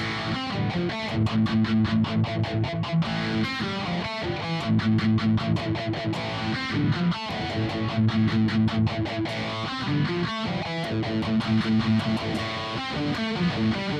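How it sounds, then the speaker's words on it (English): Electric guitar played with the overdrive pedal switched off for less distortion, a phaser effect in use, rhythmic strummed chords with sharp choppy attacks and short gaps, loud and close, alone without talk. "I turn my overdrive off so it gives it less distortion."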